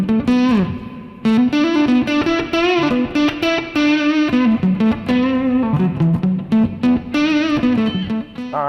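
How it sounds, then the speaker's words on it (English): Crunchy, lightly distorted electric guitar chords from a Line 6 Pod Go, strummed in a steady rhythm, with a double-tank reverb tail ringing behind them, loud and close. "All right, so we got some reverb."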